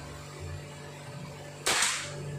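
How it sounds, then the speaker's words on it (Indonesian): A PCP air rifle fires a Hercules pellet at a target, one sharp, loud crack with a brief tail, over a steady low background hum and no talk. "Ini menggunakan yaitu peluru Hercules yang saya pakai untuk nembak target."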